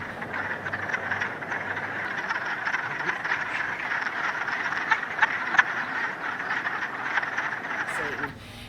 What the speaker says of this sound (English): that's when the wood frogs start to sing